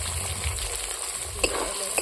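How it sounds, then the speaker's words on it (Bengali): Onion and green chili fry in oil in a pan with a steady, close sizzle, a couple of soft clinks of stirring breaking through the crackle. "পেঁয়াজ আর লঙ্কা ভালো করে ভেজে নেব"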